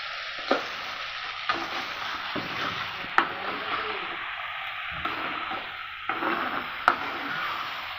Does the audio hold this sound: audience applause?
no